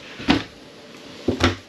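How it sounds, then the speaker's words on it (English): Soft-close pantry doors in a Keystone Cougar half-ton travel trailer, two gentle thuds about a second apart, each a soft muted close up close in a quiet interior. "Deep pantry. Soft closed doors."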